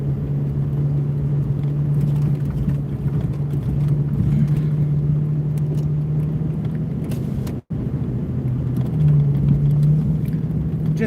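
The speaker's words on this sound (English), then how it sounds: "Just passed a public works truck that is still out plowing the roads tonight" A public works plow truck passes on a snow-packed road at night, heard from inside a moving vehicle as a steady low engine rumble with a droning hum and a brief dropout partway through.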